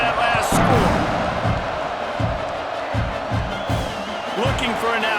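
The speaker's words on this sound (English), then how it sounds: "this crowd is buzzing after that last score" Stadium crowd buzzing in College Football 26 during South Carolina at Oklahoma, a loud continuous roar of cheering with thumping beats and whoops, heard under play-by-play commentary.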